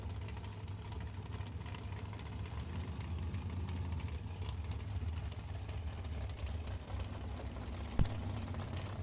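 Chevrolet drag race cars idle at the starting line while staging, a low steady engine rumble with slight knocking, moderately distant, with one sharp click near the end.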